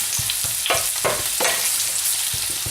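Courgettes sizzle steadily in olive oil in a pan, with a continuous hiss of frying and several short scraping stirs and clatters scattered through it, fairly close and loud.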